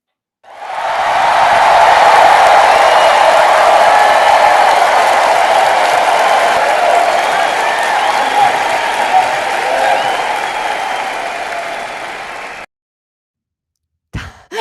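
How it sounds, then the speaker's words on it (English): A sustained wash of applause during a livestream, steady and loud for about twelve seconds, then cutting off abruptly, with a brief burst near the end. "I'll give you a bigger applause"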